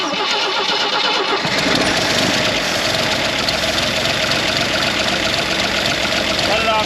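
Old Jeep CJ5 with a faulty carburetor cranks and catches, then runs roughly and steadily close by for several seconds, a loud continuous engine drone; voices speak over it.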